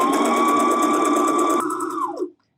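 A sewing machine runs a long, steady seam on a face mask for doctors, its fast even stitching loud and close for about two seconds, then winding down and stopping, with no talking.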